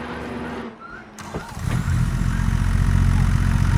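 A tractor engine cranks and catches in Farming Simulator 25, then settles into a steady, loud low rumble at idle, close by.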